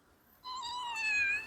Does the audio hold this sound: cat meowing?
yes